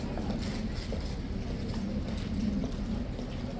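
Several King's Guard horses walk on a hard road, their hooves clip-clopping steadily under loud outdoor crowd and traffic noise.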